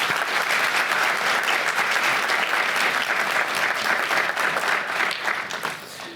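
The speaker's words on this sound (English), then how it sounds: "a round of applause for all of the entrants" Sustained audience applause at a young Muslim writers awards ceremony in 2019, a dense, steady wash of many hands clapping that holds for several seconds before easing off at the end.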